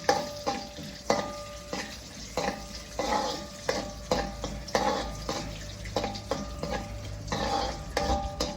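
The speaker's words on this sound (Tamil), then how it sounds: "இப்போ நாங்கள் பாதாம் பொறிச்செடுப்போம்" Almonds frying in hot ghee in a pan, a steady close sizzle broken by repeated metal clinks and scraping as a utensil stirs against the pot.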